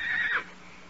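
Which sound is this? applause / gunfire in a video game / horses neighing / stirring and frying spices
horses neighing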